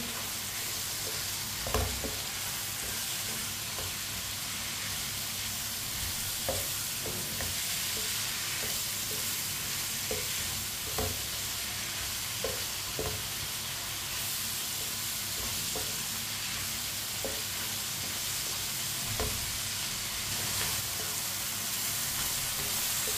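Chopped onions sizzle steadily in a pan over fairly high heat for a sabzi, with occasional soft clinks of a spoon stirring against the metal; a continuous frying hiss without any voices.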